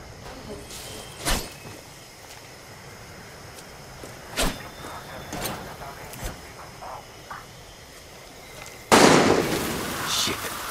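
Far Cry 6 gunfire: scattered sharp shots cracking at a distance, several spaced apart, then a louder burst near the end, with faint background ambience.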